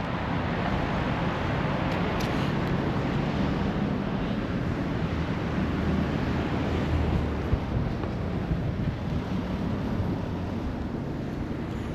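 Cold wind buffets the microphone at Petone Beach, New Zealand, with a steady roar of surf and waves underneath, loud and continuous throughout.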